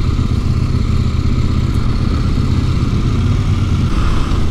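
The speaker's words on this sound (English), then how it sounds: "we are off on the CFMoto 800NK" A CFMoto 800NK motorcycle rides off at slow speed, its engine a steady, loud, low drone with wind rumble, continuous throughout without voices.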